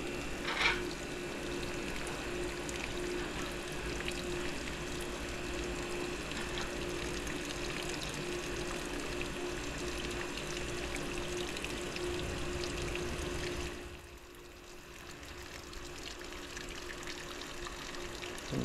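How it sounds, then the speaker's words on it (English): Water pours steadily from a hose or can onto soil around a newly transplanted pink variegated lemon sapling, a continuous close splashing stream that stops near the end, leaving quieter trickling. "And we can water them in."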